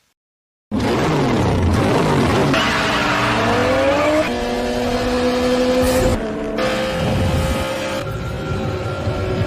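Cars race in a Fast and Furious film scene, loud engines revving and accelerating with tire squeal and skidding, pitch rising through gear changes, in a continuous roaring, cinematic mix.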